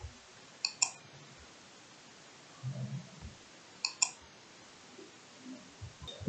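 A computer mouse clicks in two quick pairs of sharp, faint taps, a few seconds apart, in a quiet room with light handling noise in between.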